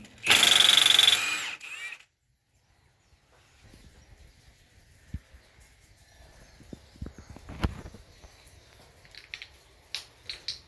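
A power tool briefly whirs loud and close as it removes a sway bar link from a Genesis Sedan front strut, followed by quiet clinks and handling of parts.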